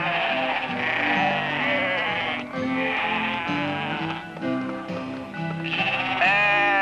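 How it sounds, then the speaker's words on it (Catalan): A flock of sheep bleats almost continuously, several overlapping wavering cries close by, loud and sustained with brief dips between calls. "les ovelles."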